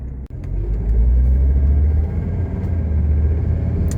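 A 1979 Mercedes 300SD diesel car drives in traffic, heard from inside the cabin as a steady, loud low-pitched engine and road rumble that holds level throughout with no talking.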